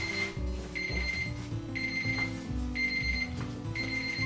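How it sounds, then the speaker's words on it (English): A coffee timer alarm goes off in a home kitchen while French press coffee steeps, sounding as a loud, repeating electronic beeping pattern in evenly spaced bursts, with no voices. "That sound is saying that my coffee is done, ready to be pressed."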